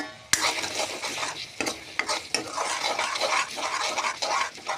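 A spatula stirs chili powder spice mix in a frying pan for a spicy chicken curry, making repeated scraping strokes over a continuous close sizzle.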